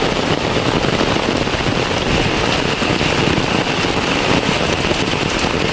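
Heavy rain pours down on Kampung Pasisian, a quiet village beside a rubber plantation forest: a dense, steady, loud hiss of downpour that stays constant throughout, with no voices.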